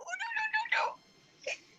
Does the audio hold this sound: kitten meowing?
yes